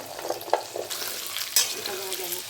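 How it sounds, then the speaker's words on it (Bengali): Taro pieces frying in hot oil, a continuous close sizzle with light crackles and a couple of brief stirring knocks, no talking. "ওই একই তেলে কচুটা ভেজে তুলে নেব"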